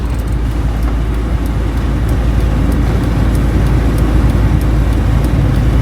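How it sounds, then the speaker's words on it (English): Loaded chicken buses in Guatemala speeding uphill past a roadside camp; a loud, continuous low engine roar and road rumble fill the whole stretch without any speech. "These chicken buses. And they just speed past."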